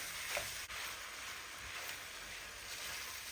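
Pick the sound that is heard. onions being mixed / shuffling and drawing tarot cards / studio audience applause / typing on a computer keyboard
onions being mixed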